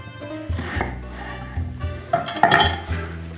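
Kitchen knife cutting the end off an onion on a board, several close knocks and clinks of the blade against the surface, uneven and fairly loud, with no talking.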